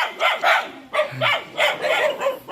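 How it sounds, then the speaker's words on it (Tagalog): Several dogs bark near a rural farm path lined with durian trees, sharp barks and yips coming in a quick irregular series, loud and close. "Daming aso."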